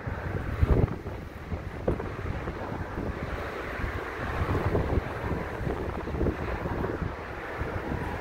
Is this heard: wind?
yes